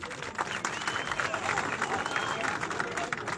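Crowd applause during a heartfelt speech in Harding, a steady patter of clapping mixed with murmuring voices throughout.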